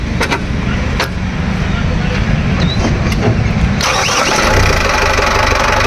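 A second-hand Tata Xenon pickup engine is cranked by the starter with a few sharp clicks, then catches at about two-thirds through and runs on loudly and up close, with faint voices in the background.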